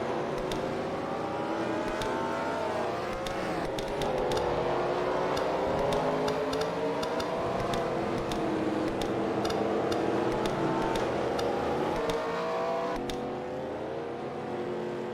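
Race cars in an online racing league event roll slowly along pit road, a continuous engine drone with shifting pitch and occasional revs, fairly close and steady, with no voices.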